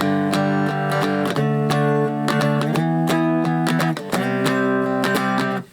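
An electric guitar played through a Valeton Dapper Mini effects strip on flat settings into a Bose S-1 PA speaker plays a clean, dry sequence of plucked chords and single notes, steady and fairly loud, with no one talking.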